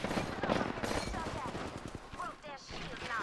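Rapid gunfire from a shooter video game, dense bursts of shots running throughout under excited talk and game sounds.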